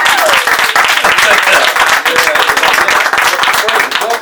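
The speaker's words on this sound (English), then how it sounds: "Y'all clapping like y'all know somebody up here." Loud, dense studio-audience applause greeting a guest on a talk show, continuous clapping with some crowd murmur and a voice talking over it.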